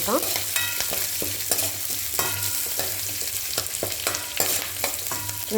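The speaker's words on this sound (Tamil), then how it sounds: "நல்லா வதக்கிக்குவோம் இப்போ இஞ்சி போடுவோம் வெங்காயத்தை போட்டுருவோம்" Ginger and onion sautéing in a pan for green chilli chutney, a steady close sizzle with frequent scraping stirs of the spatula running throughout, no voices.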